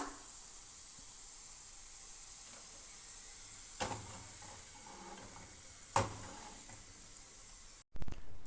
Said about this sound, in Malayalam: ഇപ്പോൾ വെളുത്തുള്ളി ഏകദേശം ഫ്രൈ ആയിട്ടുണ്ട്.